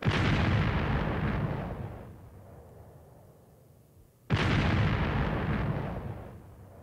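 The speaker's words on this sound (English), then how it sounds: "Can you guys hear those bombs?" Two heavy bomb explosion sound effects boom out on a podcast, each a loud broadband blast that rumbles and slowly fades over a couple of seconds, the second striking after a short quiet gap.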